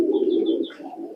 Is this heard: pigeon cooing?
yes